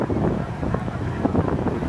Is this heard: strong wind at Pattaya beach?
yes